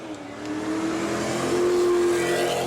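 Race cars roar off the green flag at a New Smyrna spectator match race, engines climbing in pitch as they accelerate together, loud and close with no talk over them.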